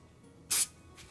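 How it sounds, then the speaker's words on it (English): A single short burst of hairspray from an aerosol can, sprayed onto a 3D-printed model part for weathering, loud and close, with a fainter second puff near the end. "This one I'll just give a blast in hairspray"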